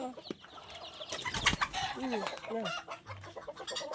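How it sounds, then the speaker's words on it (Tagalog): Chickens cluck near and far in a backyard flock, with repeated short calls and a rising squawk over a steady outdoor background, and a little talk mixed in. "nakikita nyo yung mga manok na yan."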